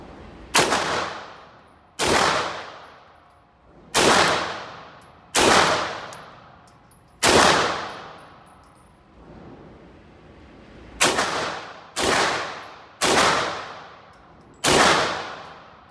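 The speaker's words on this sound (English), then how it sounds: "let's take a look at how it shoots at the range with the KH9 and the Sites Spectre" A Sites Spectre HC 9mm pistol fitted with a B&T KH9 fires at an outdoor range: nine loud, sharp shots at irregular intervals, each with a ringing tail that decays before the next.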